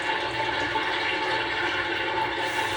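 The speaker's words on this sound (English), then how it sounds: "flushing sound for privacy, I guess" A Japanese toilet plays its privacy flushing sound, a continuous, even rush of running water heard up close with no break and no speech.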